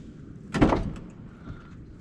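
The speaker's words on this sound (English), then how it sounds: "We'll open up the door here" A 2007 Porsche Cayman's car door opens with a single short latch clunk in the middle of an otherwise quiet stretch, close and moderately loud.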